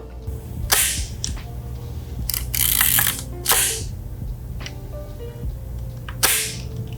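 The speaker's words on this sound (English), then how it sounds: "while this camera does have a leaf shutter, it isn't the most quiet or pleasing sounding shutter out there" Leaf shutter of a Fuji GS645S medium format rangefinder firing several times, each release a sharp, fairly loud mechanical click spaced irregularly over quiet room noise.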